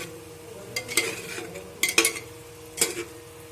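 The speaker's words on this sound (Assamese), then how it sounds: "বেম্ব' শ্বুটখিনি দিয়াৰ পিছত এতিয়া মই আকৌ লৰাই দিছোঁ" Boiled pork with bamboo shoots stirred in a pot for an Assamese dish, a few distinct metallic scrapes and clinks of the utensil against the pot over a faint simmering background, close, with no talking.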